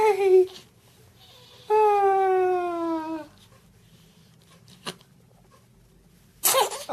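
A baby sneezes with a sharp burst near the end, after a couple of drawn-out infant cries or squeals; the room is otherwise quiet, close and intimate.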